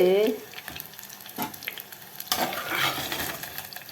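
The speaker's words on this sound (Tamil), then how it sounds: "தாளிதம் பண்ணிவிட்டு வெங்காயம் எல்லாம் வதங்கின பிறகு இதை போட்டுருவோம்" Onions frying in hot oil in a tempering for a home-cooked kuzhambu, a steady close sizzle with a few spoon stirs and scrapes against the pan, no talking.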